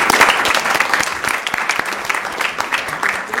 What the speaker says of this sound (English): give your parents a round of applause for all the commitment that they have showed